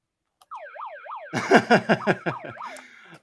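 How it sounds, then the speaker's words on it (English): A wailing electronic siren sweeps up and down, joined midway by a louder, pulsing emergency-vehicle siren with rapid rhythmic bursts. "Hit the siren."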